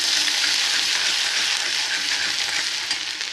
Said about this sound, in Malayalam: നമ്മൾ വറുത്ത് വെച്ച ആ എണ്ണ കുറച്ച് ഞാനങ്ങ് ഊറ്റി മാറ്റി അതിലേക്ക് ഈ ഇഞ്ചിയും വെളുത്തുള്ളിയും കൂടെ